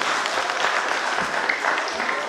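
An audience in a hall at a village festival of customs and traditions claps in a steady, dense wash of applause, moderately loud and continuous throughout.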